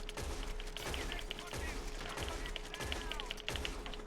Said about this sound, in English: We'll quick test out the fire rate, see how long it takes to fire all 7 rounds